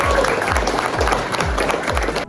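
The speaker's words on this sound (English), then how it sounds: "Give a round of applause for Jessica Dempsey." Audience applause for a guest speaker at a secondary school college tour, steady clapping from a crowd in a hall over a regular low thumping beat, loud and continuous for a couple of seconds.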